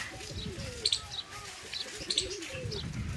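A pair of white pigeons coos in soft, repeated rolling calls, with light chirps and a brief flutter of wings close by, no voices present.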